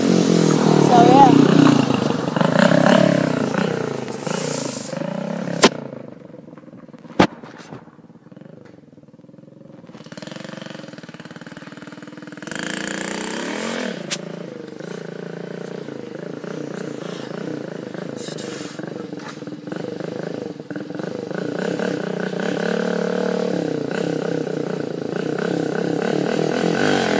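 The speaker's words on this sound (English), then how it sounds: "this is the official testing of the Wheelie King" A motorized bike called the Wheelie King runs through a test, its small engine droning and purring steadily with revving swells, a brief quieter lull in the middle, and talk heard over it.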